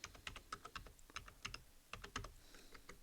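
Visa card details being entered on a computer keyboard: a fast, uneven run of crisp key clicks in short bursts, close and clear with no talking.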